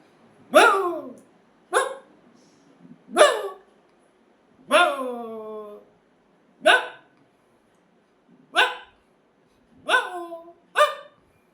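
A voice imitates a big dog's barking in eight separate short, deep woofs spaced out with pauses, close and clear.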